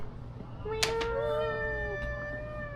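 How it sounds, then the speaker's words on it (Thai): A cat meows on a street on the way home in Korea, one drawn-out, rising and falling cry standing out clearly over steady background hum and faint traffic. "กำลังกลับบ้านเราเจอแมว"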